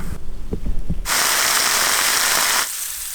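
A steak searing in a hot pan: a few soft thuds, then a sudden loud broadband hiss lasting about a second and a half that cuts off abruptly.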